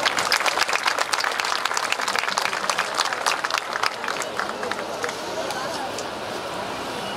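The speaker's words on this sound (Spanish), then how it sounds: "lo recibimos con un aplauso" Sustained applause from an audience welcoming engineer Roberto González, general manager, at a public street-lighting inauguration in Zacatecoluca, El Salvador; dense, steady clapping with crowd murmur that thins and fades over the last few seconds.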